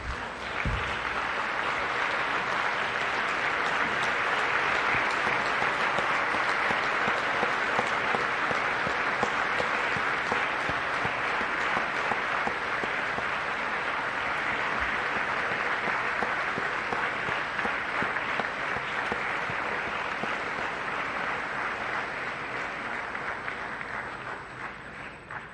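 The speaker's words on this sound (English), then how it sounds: "give a thundering round of applause" A large convocation crowd gives a thundering, continuous round of applause that stays steady and dense for about twenty-five seconds before tapering slightly at the end.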